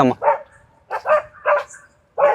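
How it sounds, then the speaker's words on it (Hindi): Dogs bark in short, sharp bursts at 3 AM in a park, four or five barks spaced apart with brief pauses, fairly close and loud. "हमारे कुत्ते कुत्ता भौंकना शुरू हो गए"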